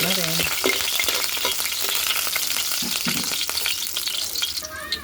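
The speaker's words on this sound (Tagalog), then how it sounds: "Yan, nagisa na po yung bawang." Garlic sautés in hot oil as a steady, close sizzle and crackle, with occasional scraping stirs of a utensil in the pan while chicken tinola is being started; no one speaks.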